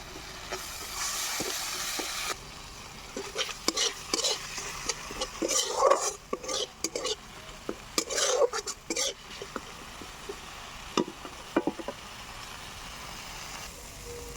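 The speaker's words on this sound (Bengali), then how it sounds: "স্বাদ মতো নুন দিয়ে এবার মশলাটাকে আমি ভালো করে কষিয়ে নেব।" Salted spice paste fries in oil in a pan for an egg and cauliflower curry, a soft steady sizzle broken by irregular scraping and clinking as a spatula stirs it against the pot.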